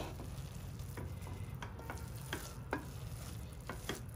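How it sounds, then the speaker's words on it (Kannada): Rice and masala for methi bath, a fenugreek-leaf and ground-tomato rice dish, are stirred in a pan, giving soft intermittent scraping strokes over a low continuous sizzle, fairly quiet and close, with no voices. "ಅಕ್ಕಿ ಕೂಡ ಚೆನ್ನಾಗಿ ಪೊಂಗಿದೆ ಮಸಾಲೆಯಲ್ಲಿ. ಸೊ ಮಿಕ್ಸ್ ಮಾಡ್ಕೊಳ್ತಾ ಇದ್ದೀನಿ"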